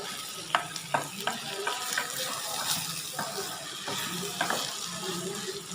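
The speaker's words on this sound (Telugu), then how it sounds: "కలుపుకొని సిమ్లో పెట్టి బాగా ఫ్రై అవనియాలి." Potato pieces fry and get stirred in a pan, with a steady sizzle broken by spoon scrapes and taps at irregular intervals, close and moderately loud.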